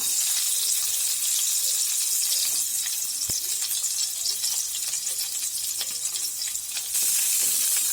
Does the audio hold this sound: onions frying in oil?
yes